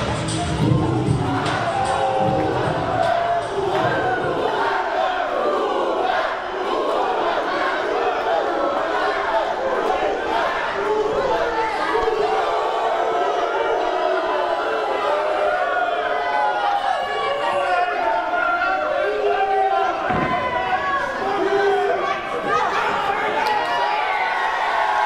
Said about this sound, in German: das Publikum steht hier hinter Murat Boskos.